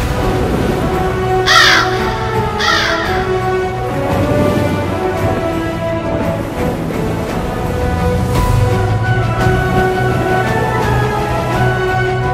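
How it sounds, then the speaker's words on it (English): Crows caw near a cemetery in rural Ireland, with two distinct calls close together early on and more scattered caws over a steady outdoor background. "these crows. They just kind of fly through and go"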